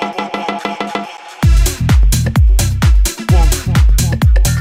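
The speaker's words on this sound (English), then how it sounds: "We've got this hoover, which is also coming from Rave Generator." Rave hoover synth sample from the Rave Generator plugin in a tech house production, a string of loud detuned swooping stabs with pitch dives, playing rhythmically over a punchy thumping kick after a brief sparse intro.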